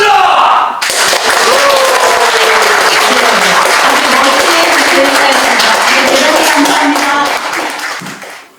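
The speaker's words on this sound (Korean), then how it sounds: "박수와 환호로 맞이해 주시기 바랍니다" Seminar audience in a National Assembly hall breaking into loud, sustained applause with some cheering, a dense clapping roar that starts abruptly after a spoken announcement and fades out near the end.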